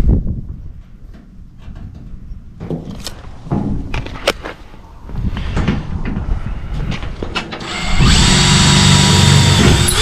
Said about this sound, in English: those are the holes that I drilled previously into the frame